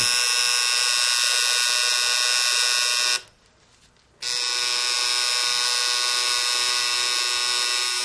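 A tattoo machine needle drives black ink into skin, giving a loud, steady high electric buzz that cuts out for about a second midway and then resumes at the same pitch, with no talking.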